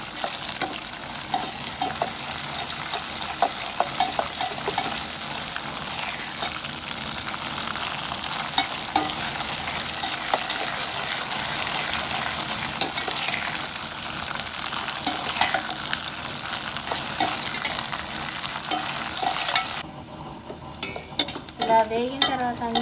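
Ghee hisses in a pan as food fries for kattipongali, a dense, steady sizzle up close with occasional stirring scrapes throughout and a brief dip near the end.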